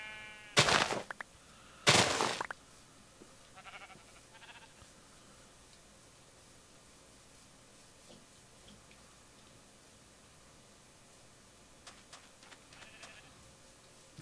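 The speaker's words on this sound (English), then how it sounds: "Tons of sheep here." Sheep bleating in the video game Minecraft, two loud close bleats early on, then quieter scattered calls and small in-game noises over a faint background.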